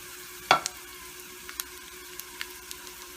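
French beans frying with hing and curry leaves in hot oil, one sharp crackling burst followed by a quiet sizzle and scattered faint pops and stirs.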